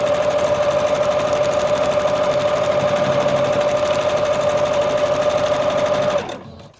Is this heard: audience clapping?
no